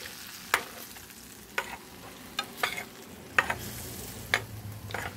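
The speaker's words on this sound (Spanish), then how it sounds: "Ahí lo voy a dejar que ya se fría" Spiced chicken seasoned with garlic, oregano, pepper and clove fries in a pan over a wood fire, a steady close sizzle punctuated by sharp scraping clicks of stirring.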